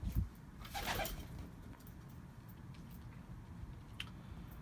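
Pigeons at the Edirnekapı bird market coo softly and intermittently, with a brief rustle and a few faint bird sounds over a quiet low background; no one speaks.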